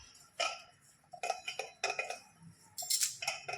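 Spices being mixed in a bowl, chilli and turmeric stirred together, giving a few bright clinking and scraping bursts of utensil against the bowl in short spaced clusters, close and fairly clear.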